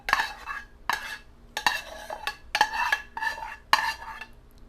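Spoon scraping around a large bowl while mixing a gravy mixture for a broccoli and rice cheddar bake, about seven sharp scrapes and clinks in an uneven rhythm, close and alone.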